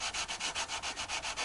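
Sandpaper rubbed back and forth over stainless steel guitar frets during levelling on an Ibanez Gio, a close, even, rhythmic scraping with about ten strokes in quick steady succession.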